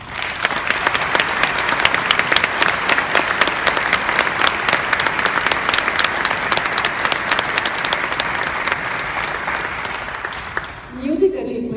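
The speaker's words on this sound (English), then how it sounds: "Please give them another round of applause." Audience applause for a student orchestra at a May concert, sustained even clapping from a sizable crowd lasting about ten seconds before fading, with a voice starting to speak at the end.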